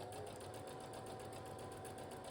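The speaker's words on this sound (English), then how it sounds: "now I'm going to quickly sew up this facing just so I know it's going to fit in the toile" A sewing machine runs steadily as a dress facing is stitched up, giving a continuous fast mechanical whirr with a rapid even pulse, close and quiet, with no talking.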